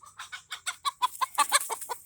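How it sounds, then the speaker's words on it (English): Hens cluck and squawk in a rapid, agitated burst as a young rooster chases them, close by, with quick flurries of calls over about two seconds. "This is one of the new teenage roosters chasing after the older ladies."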